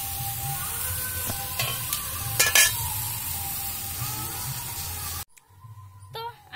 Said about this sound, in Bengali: তো চলো আমি আমটাকে একটু হালকা ভেজে নিই।